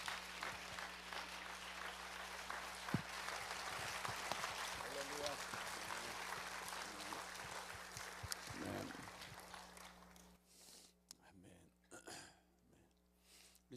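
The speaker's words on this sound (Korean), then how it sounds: "박수로 하나님께 영광 되시고 큰 은혜 말씀을" Applause from a church congregation at a dawn worship service greets a missionary coming forward, a dense broadband patter filling most of the clip before thinning out into quieter room sound near the end.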